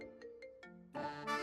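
A mobile phone ringtone plays a short, quiet electronic melody of a few tones, then swells into a louder, fuller musical phrase near the end.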